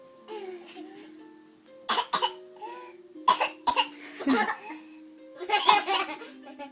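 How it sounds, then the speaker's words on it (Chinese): A child coughs in several bursts while playfully acting out a cough, with giggling and laughter mixed in between and a high childish voice sounding at the start. "怎么表演咳嗽？"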